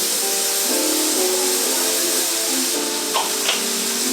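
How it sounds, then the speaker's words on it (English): A steady hiss of cooking spray runs continuously for a few seconds, close and fairly loud, with faint clinks near the end. "Now time to spray it."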